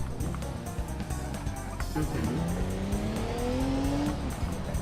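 A car in the BeamNG driving game cruises with a steady engine drone, then around the midpoint the revs climb in rising tones as it accelerates, with a brief tire squeal; the motor hum stays continuous throughout.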